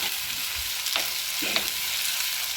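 Tomatoes sautéing in oil and masala for a kilimeen (threadfin bream) fish curry: a steady close sizzle with two brief scraping stirs of a spoon in the pan, no voices.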